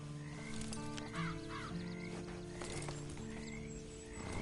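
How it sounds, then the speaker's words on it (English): Horse hooves clip-clop in a steady rhythm in Red Dead Redemption 2, with a soft snort or whinny early on, over quiet ambient game sound. The sound is fairly faint overall. "Then you better get on this horse."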